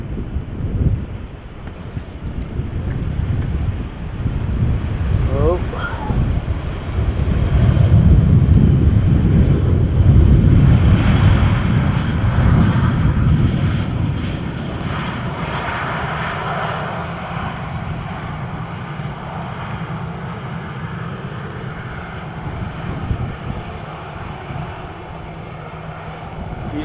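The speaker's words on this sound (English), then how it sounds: "EasyJet landing." An EasyJet airliner lands in a strong crosswind at Amsterdam Schiphol after a storm, its loud engine roar building and fading under heavy wind buffeting on the microphone.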